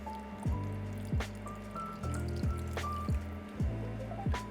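Worcestershire sauce is poured into a pan of beef stroganoff with soft, irregular drips and glugs of liquid, faint and close, repeating about every second over a low background hum.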